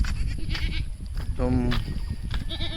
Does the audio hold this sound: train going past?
no